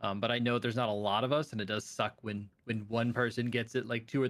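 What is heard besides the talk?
No everyday noises stand out.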